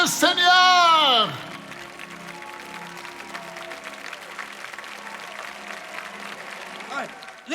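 A church congregation applauds and cheers the Lord briefly, a loud burst of clapping and voices at the start that quickly fades into a low murmur of crowd noise.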